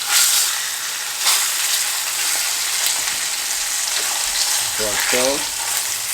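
Pork steaks, just flipped, fry loudly in hot grease with a steady dense sizzle and crackle, close and constant throughout. Someone says a few words briefly near the end.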